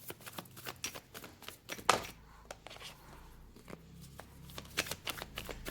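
Tarot cards being shuffled and drawn, with quick papery riffles and taps in uneven bursts, close and fairly quiet.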